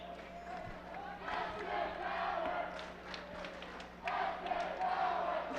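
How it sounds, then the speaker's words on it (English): Crowd at a high school basketball game between the SKHS Wolves and Gig Harbor Tides, February 2009, chanting and shouting together in loud rhythmic surges that swell twice, filling a gym. "the crowd is chanting SK power"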